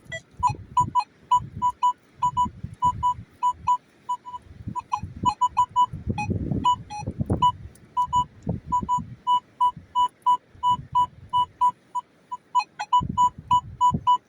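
A metal detector with customized tones beeps repeatedly in short clustered bursts while a hunter searches a field for coins and rings. The beeps are loud and close, with low scraping thuds from digging in between.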